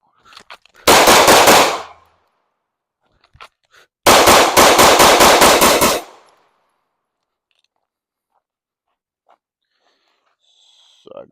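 Two rapid strings of close-range shots from Glock pistols, Glock 19 and Glock 26 compact handguns, each burst a quick run of loud cracks lasting about two seconds, separated by a pause, with faint handling noises after.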